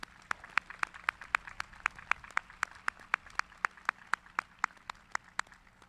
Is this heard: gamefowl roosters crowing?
no